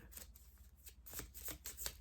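Oracle cards being shuffled close by, a steady run of soft papery flicks and slaps in quick succession, quiet overall.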